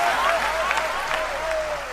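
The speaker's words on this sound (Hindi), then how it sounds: "तालियों की गूंज से हौसला बढ़ा दो आप" An audience at a Hindi poetry recital applauds in a continuous, even wash of clapping, with a voice faintly audible beneath it.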